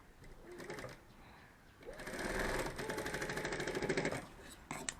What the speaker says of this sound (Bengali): পাল্টি হলে এইভাবে সেলাই করে দেবো।